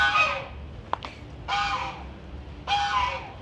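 Backyard chickens giving a few loud, bursty calls, three drawn-out squawks separated by pauses, with a sharp click or knock between the first two.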